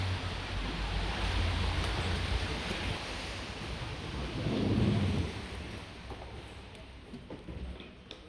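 Rain and rolling thunder outside a hotel, a steady wash of rainfall with a deep rumble swelling near the middle and then fading, fairly distant and continuous.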